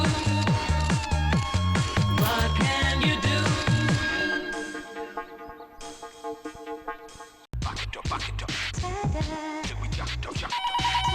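A landline telephone rings loudly and insistently in rhythmic electronic bursts, then falls quiet, then resumes with a second burst of ringing, heard up close in a Tamil comedy sketch.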